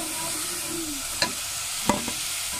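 Onion and garlic fry with spices in a pan for a chicken liver and gizzard curry, giving a steady soft sizzle broken by two sharp spoon scrapes.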